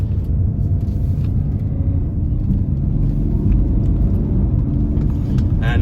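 Diesel engine of a 2019 BMW X5 xDrive30d 3.0-litre M Sport dropping down to second gear, a steady close, loud low rumble and drone from inside the cabin with no voices.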